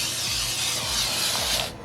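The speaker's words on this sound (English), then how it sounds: "So I'm just going to spray this on" A steady, forceful aerosol carpet adhesive spray hisses continuously for nearly two seconds, close by, then cuts off abruptly.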